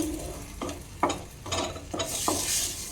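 Milk being stirred into semolina for modak in a pan over low heat, soft sizzling with several distinct scraping strokes of the spoon at a fairly quiet level.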